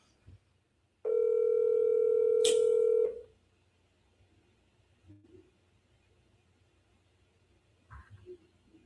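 A phone call rings out with one steady, loud electronic tone lasting about two seconds, then the line falls quiet, with only faint scattered background sounds afterward.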